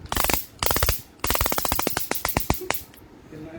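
A handheld taser with a built-in torch fires in rapid crackling bursts, loud, close snapping pulses in three runs, the last one slowing and fading into scattered clicks.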